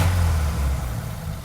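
A 1950 Ford Prefect with a 1.17 liter inline four-cylinder engine runs with a low, steady rumble, loud and close, with a brief surge early before settling into a smooth idle.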